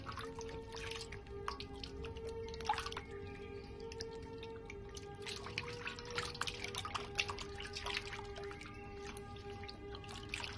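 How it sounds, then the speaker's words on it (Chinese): Peeled yam and celery get rinsed in a bowl of water, with soft splashes, drips and trickles coming and going irregularly, close but quiet, with no talking. "接着把削好皮的山药和芹菜放入水中清洗干净"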